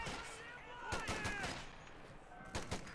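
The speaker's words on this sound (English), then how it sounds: "There's suppression from the MG42, but it's not enough." An MG42 machine gun fires in the strategy game Company of Heroes 2, with quick bursts of rattling gunfire mixed with other shots in a battle, fairly quiet beneath a commentator's talk.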